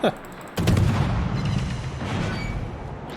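Heavy naval shell fire from a Soviet tier-eight destroyer Kiev battle in World of Warships, a sharp booming salvo followed by sustained rumbling gunfire and echoing blasts throughout.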